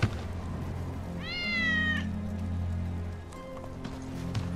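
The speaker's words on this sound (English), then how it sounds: "That's Wedge's cat." A cat in the Final Fantasy 7 Remake video game gives a single clear rising-then-falling meow, close and distinct over a low steady game ambience with faint soft steps.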